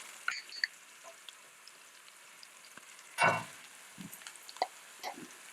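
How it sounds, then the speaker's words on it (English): About three tablespoons of minced garlic sizzle softly in hot oil in a pan, a steady quiet frying hiss with a brief louder scrape of stirring midway and a few light clicks. "Now I'll add about 2 tablespoons of minced garlic."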